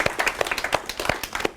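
Audience applause for a student who has spoken on stage at Te Wānanga o Aotearoa: a small crowd claps in a brisk, uneven rhythm, with distinct close hand claps standing out, loud and free of speech.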